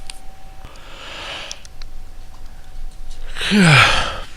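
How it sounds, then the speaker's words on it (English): A person yawns close to the microphone, a long breathy exhale that rises at the end after quiet breathing and faint room noise. "Busy yawning."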